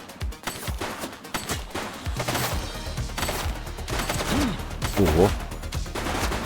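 Video-game gunfire in The Precinct, a police game, with repeated sharp shots and bursts over engine and street noise, while a player exclaims briefly.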